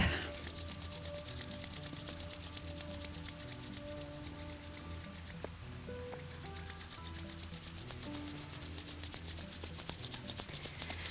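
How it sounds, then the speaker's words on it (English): Two palms rub briskly against each other to build warmth, a close, continuous dry swishing that runs steadily with only a brief dip midway. "rub your hands together until they become hot"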